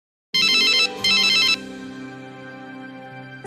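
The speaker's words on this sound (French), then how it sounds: "Son téléphone sonne" A mobile phone ringtone starts suddenly and loudly with two bright bursts of chiming notes, then carries on as a sustained melodic tone, near and alone.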